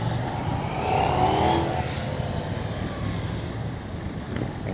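A Bajaj or KTM motorcycle on its stock exhaust revs loudly up close, the engine note swelling briefly and then settling into a rough, steady drone.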